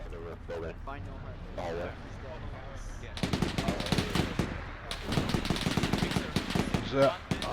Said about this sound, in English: there's a half track outside the building shooting. Yeah, shooting 50 at us